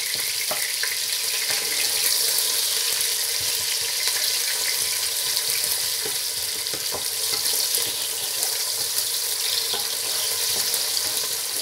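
Onions frying in a pan, a dense, steady crackling sizzle with scattered sharp pops throughout, fairly loud and close with no talking.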